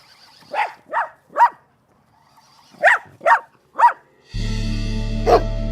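A dog gives six sharp barks in two groups of three, close and loud, before a loud steady drone cuts in and covers a final bark.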